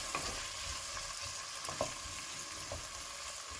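Tomato being stirred into vegetables sweating in a pan for lasagne, a soft steady sizzle with a few scraping stirs, close and alone without voices.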